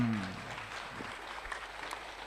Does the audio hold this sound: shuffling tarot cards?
no